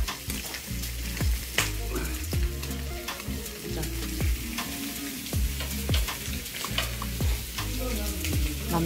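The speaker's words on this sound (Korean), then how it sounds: "남편은 고기를 굽고" Meat grills at a restaurant table with a continuous close sizzle, broken by repeated clicks and scrapes of tongs or utensils against the grill, with no talk.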